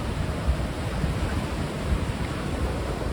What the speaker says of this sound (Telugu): చూసారా కొండరాలతో సముద్రం ఎంత బాగుందో